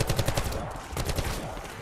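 Video game gunfire shooting zombies, with rapid close bursts of automatic shots at the start, a short pause, then another quick burst of fire.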